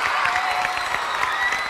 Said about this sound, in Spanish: ¡Fuerte el aplauso para Chicho!